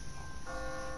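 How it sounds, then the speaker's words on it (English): An automatic church bell on a timer rings at the twenty-past mark, heard as a steady sustained tone with a clear strike partway through over a constant background wash, no voices. "What kind of church bell goes off at 20 past the hour?"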